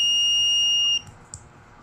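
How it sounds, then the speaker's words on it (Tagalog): An electric buzzer powered by four 18650 batteries gives a loud, steady high-pitched tone for about a second, then cuts off, followed by faint clicks. "So once na in-on natin, so the buzzer will activate."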